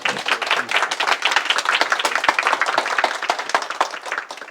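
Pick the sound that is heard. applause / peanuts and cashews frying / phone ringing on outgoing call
applause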